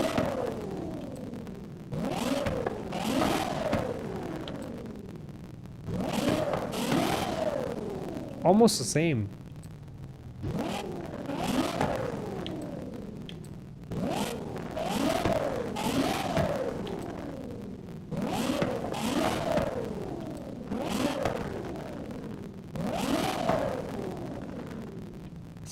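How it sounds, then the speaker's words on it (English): Modified car fitted with a better intake and exhaust revving hard in Forza Horizon 5, a series of rising-and-falling rev sweeps with crackle at the top, repeated every few seconds, with a voice talking over it. "So let's see what it sounds like with a better exhaust."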